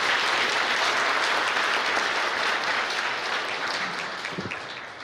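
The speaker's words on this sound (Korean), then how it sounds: "박수 부탁합니다" Congregation applauding during a Catholic Mass for democracy in Myanmar, dense continuous clapping from many people that fades gradually toward the end.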